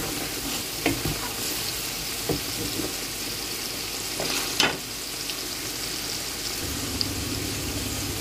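Mustard oil heats and foams in a pan, giving a steady bubbling sizzle with a few sharp ticks and pops. It runs alone at moderate level.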